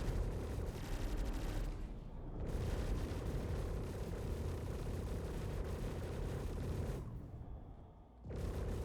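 Sustained gunfire pounds a spaceship hull in the space combat game Star Citizen: a dense, roaring barrage of impacts that thins out briefly twice before surging back, with no talking.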